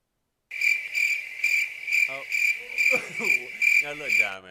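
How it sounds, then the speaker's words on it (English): A crickets chirping sound effect on a radio show, a steady pulsing high trill in regular bursts, with a person talking briefly underneath toward the end. "You cannot play the crickets now."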